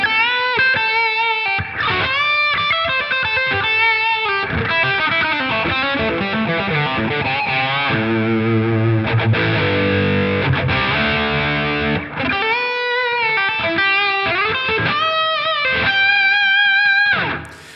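High-gain electric guitar through a Line 6 Helix overdrive/distortion model, with heavily saturated chords and sustained notes played continuously and loud with no voice.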